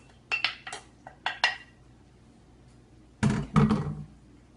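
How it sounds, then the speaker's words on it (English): Dry ingredients being mixed into grated sweet potato in a bowl, a utensil knocking and clinking against the bowl in a few short bursts separated by pauses, close with no talking. "I go ahead and I mix it into the grated sweet potato like this"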